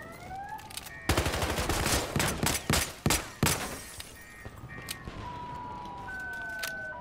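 Bursts of automatic and single gunfire in the video game Battlefield Hardline, a dense run of loud close shots in the middle with sharp cracks, amid game ambience and tonal whines before and after.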